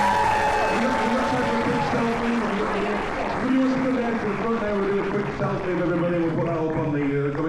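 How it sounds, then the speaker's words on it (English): A comic con audience claps and cheers steadily throughout, a dense wash of applause with voices and music-like tones mixed in. "Big round of applause for Emily Swallow."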